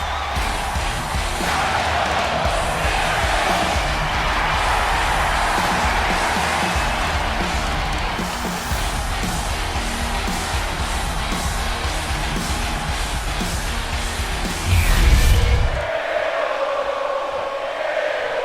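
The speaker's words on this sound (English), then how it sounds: "Crowd ready to see what Gable can do. Chanting for him." A steady wrestling arena crowd in WWE 2K25 roars and chants continuously at an even level, with a brief louder swell near the end before the noise drops off.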